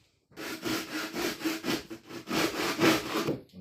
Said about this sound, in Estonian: See on Parkside'i saag.